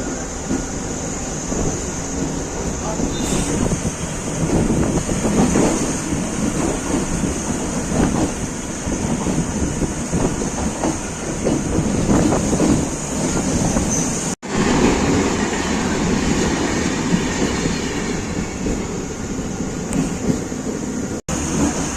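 A festival special train to Tirupati, India, rumbles along continuously with wind buffeting and rattling, heard from on board, steady and fairly loud, with no voices.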